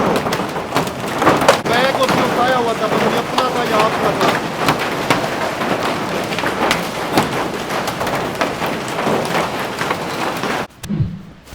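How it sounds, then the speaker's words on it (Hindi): Large hailstones pelting down in a heavy rainstorm, a dense loud clatter of impacts and rain with scattered thuds, cutting off abruptly near the end, while a voice speaks underneath. "ये इतने बड़े बड़े ओले पड़े हैं"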